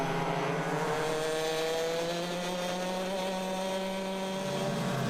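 Club100 lightweight clubman sprint karts racing at Clay Pigeon circuit, engines droning loud and continuous with a steady high buzzing pitch that slowly shifts as the pack passes close by.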